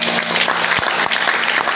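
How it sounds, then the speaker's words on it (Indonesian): Loud, dense applause from an audience at a creative economy event, steady clapping filling the whole stretch with no voices over it. "Boleh saya minta tepuk tangannya?"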